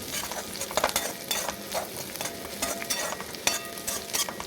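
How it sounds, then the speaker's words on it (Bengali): Lentils (kalai) stir-fried in a pan while making chire pulao, a steady close sizzle broken by scraping spoon strokes and light clinks against the pan, with no talking. "কলাইটা দিয়ে দেব কলাইটাকে একটু মেরে নেব ভালোভাবে"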